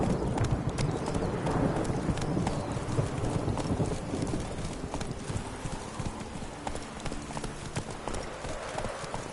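Roach the horse, in the Witcher 3: Blood and Wine video game, trots with rapid, steady clip-clopping hooves close by, moderately loud and continuous with no talking.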